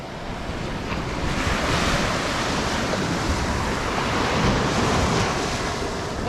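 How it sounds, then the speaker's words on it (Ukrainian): Heavy Baltic Sea waves roar and wash continuously over a stony shore, with wind buffeting the microphone throughout. "Ну, хвилі тут серйозні такі."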